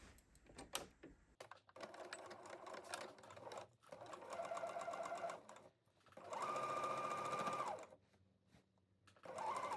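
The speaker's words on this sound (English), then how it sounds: "Next, we are going to sew the horizontal darts on the back skirt pieces." Sewing machine stitching horizontal darts on the back pieces of a fitted skirt, running in several separate bursts of a few seconds each with quiet gaps between, close and fairly quiet.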